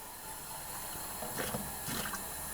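Tap water runs steadily into a basin for a patient's bed bath, a continuous gushing hiss with a slight surge partway through, with no speech over it.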